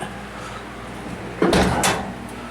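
A heavy fire-rated door between garage and house swings shut on its self-closing spring, landing with a single solid thump and a short rattle close by after a quiet moment.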